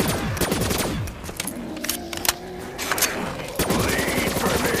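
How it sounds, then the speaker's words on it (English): Rapid automatic gunfire in Call of Duty: Black Ops III zombies survival mode on The Giant map, loud sustained bursts mixed with game effects and occasional voice. "My kind of shooting."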